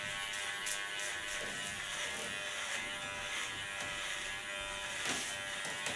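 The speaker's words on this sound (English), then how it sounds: "And don't force the clipper on the skin." An electric hair clipper cutting thick hair during an ultra short haircut, a faint steady buzz with slight changes in tone as the blades move through the hair, continuous and close-up.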